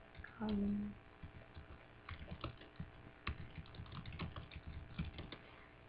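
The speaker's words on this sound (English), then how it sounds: "So then we type in what we want to know about." Rapid typing on a computer keyboard in a quiet room, fairly faint, with uneven bursts of key clicks after a brief spoken word at the start.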